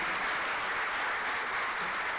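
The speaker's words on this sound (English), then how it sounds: "A round of applause, ladies and gentlemen, for His Excellency." Applause for His Excellency at the Alaghodaro 2020 Edo Summit: a large audience claps in a continuous, even roar, heard from a slight distance, with no voices standing out.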